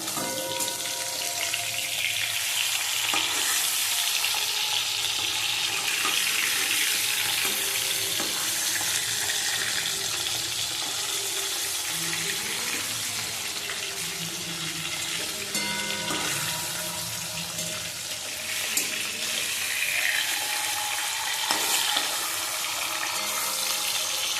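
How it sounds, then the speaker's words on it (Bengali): Hilsa fish, its head now in the pan, fries in hot oil with a steady, dense sizzle and crackle that holds evenly throughout, close by, with no talking. "দেখতেই পাচ্ছ এবার মাথাটা ভাজা হচ্ছে।"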